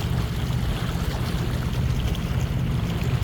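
A sailboat motoring under engine on a summer cruise near Noirmoutier and l'Herbaudière, its steady low engine drone blending with wind and water rushing past the hull, continuous and fairly loud with no talking.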